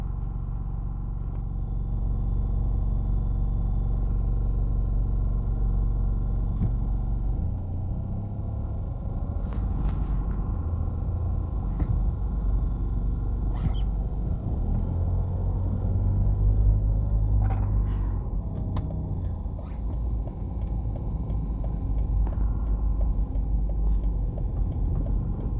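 A car drives through the downtown streets of Kingston, Jamaica, along Port Royal Street and Harbour Street. Its engine gives a steady, continuous low rumble, with road noise and a few faint clicks and scrapes, and no talk.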